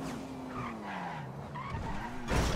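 Car tires skid and squeal in GTA V Online at night, a steady sliding screech under engine noise that sweeps down in pitch, ending in a louder burst of noise.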